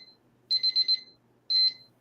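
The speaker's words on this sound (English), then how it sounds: "May I finish answering even the timer went off?" A debate timer alarm goes off with a quick burst of four shrill electronic beeps, then a pause and one longer beep, in an otherwise quiet room.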